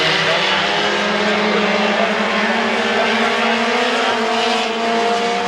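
Race cars roar around the oval at Midvale Speedway in a dense, continuous wall of engine noise, several rising and falling harmonic lines showing cars battling close together, with no break throughout.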